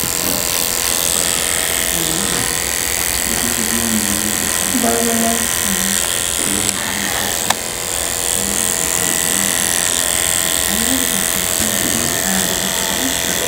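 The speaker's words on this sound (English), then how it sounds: "you want to just use the side of your clipper instead of trying to take the whole" An electric hair clipper buzzes steadily and close up while cutting a man's fade, a continuous loud hum that persists under someone talking throughout.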